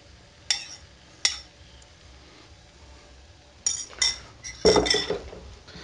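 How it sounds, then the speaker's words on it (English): Carbonara pasta stirred with egg mixture in a pan off the heat, a few sharp metal clinks of utensil on pan spaced apart, then a quick cluster of scraping clatter, no talking. "all we do is just stir this through the pasta"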